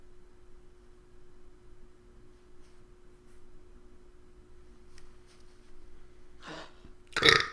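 A single loud burp near the end of a quiet stretch during an Outer Wilds play session, preceded by a faint breathy rustle.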